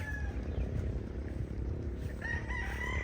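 Chickens on a farm with a rooster crowing faintly in the distance over a dense, rumbling background, with brief clucks and bird calls toward the end.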